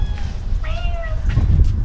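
A cat meows close by in a few short, rising calls over a low, rumbling background, with no one talking.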